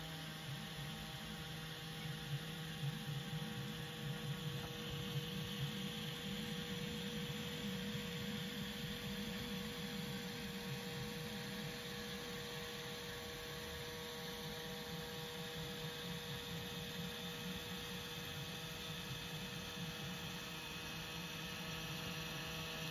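A steady electric whir of a small fan motor in a homemade HO-scale model railway track vacuum cleaner, humming continuously with faint tonal overtones and no talking.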